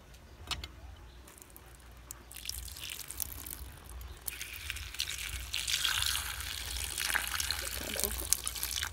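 Water runs from a tap in a home setting, a steady broadband rush that grows louder and brighter in the second half of the clip, with no talking over it.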